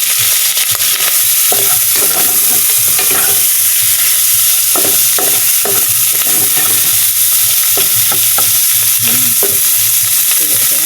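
Garlic and onion sauté in a pan for a ginisang munggo, a loud steady sizzle broken by irregular clinks and scrapes of a spatula stirring throughout, with no talking.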